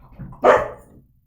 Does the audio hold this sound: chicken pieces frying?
no